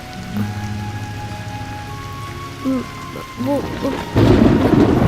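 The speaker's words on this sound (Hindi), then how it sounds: "वो बारिश बहुत तेज हो रही है" Heavy rain and thunder in a romantic Hindi short film scene, with faint tonal sounds at first and then a loud, dense wash of downpour near the end.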